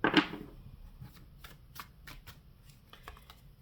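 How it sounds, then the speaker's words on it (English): Tarot cards being shuffled by hand at close range, opening with a louder riffle burst and followed by a run of soft, quick card flicks and taps in a quiet room. "I'm going to do one more shuffle."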